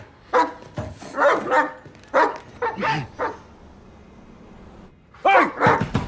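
A dog barks in short, loud bursts close by, a cluster of sharp barks, a pause, then a few more.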